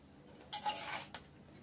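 A spoon scrapes and clinks against a metal pot while stirring lemon juice into cooked basmati rice, a short, quiet burst of metallic rattling with no talking.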